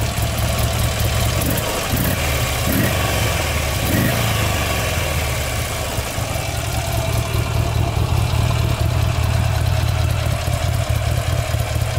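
A quad bike engine runs loud and close at a rough, steady idle with a few brief blips of revving early on, then holds a constant drone.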